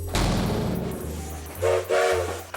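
A prison transport train bound for Alcatraz from Leavenworth rumbles along loudly and steadily, then sounds two short blasts of its horn near the end.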